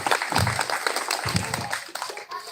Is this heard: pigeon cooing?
no